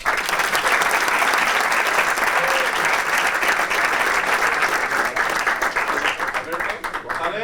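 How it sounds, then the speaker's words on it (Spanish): Thick, continuous crowd applause for the second-place finisher, Joan Pratels, at a powerbuilding event ranking, holding steady and fairly loud for over seven seconds, with faint voices mixed beneath the clapping. "Un aplauso"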